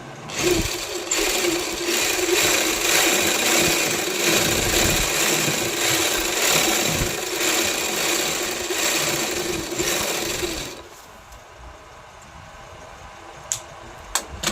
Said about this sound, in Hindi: एक पैर छोड़कर दूसरी सिलाई लगाऊंगी।